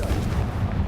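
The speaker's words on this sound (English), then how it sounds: "Confringo!" The Confringo fire spell bursts in Hogwarts Legacy, a loud, dense explosive blast with a deep rumbling boom that fills the whole short moment without a break.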